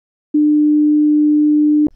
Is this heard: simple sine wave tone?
yes